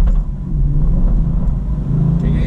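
A C8 Corvette pulls away on a performance driving school run, its engine a loud, close, steady low rumble building throughout.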